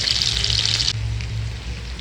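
Potatoes fry in oil with cumin seeds and whole green chillies, a loud, close sizzle that crackles brightly for a second before settling into a softer, duller hiss.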